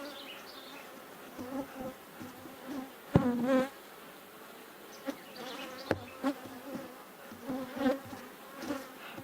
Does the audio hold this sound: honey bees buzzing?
yes